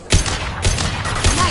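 Three sharp, loud gunshots spaced about half a second apart in Mass Effect 2, each a close, punchy blast with a short ringing tail.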